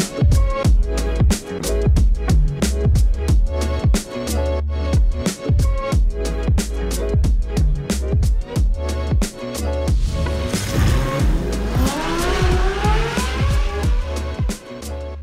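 A sports car roars while driving, its engine and exhaust loud and close, with a dense run of sharp pops and bursts and revs climbing toward the end.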